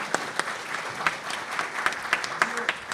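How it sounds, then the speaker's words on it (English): An audience applauds at the launch of a university Latino initiative, scattered claps ringing out steadily at moderate volume in a room, with a voice briefly heard under the clapping. "Everyone, please give her a big applause."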